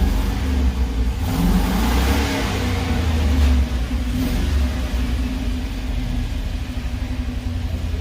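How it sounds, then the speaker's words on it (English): A 2003 Chevrolet truck's 6.0L V8 idles with a misfire on cylinders one and two, giving a steady, close, loud low rumble that swells briefly around the middle before settling back into an uneven hum. "Now number 2 is misfiring, number 1. And you can see right here in idle"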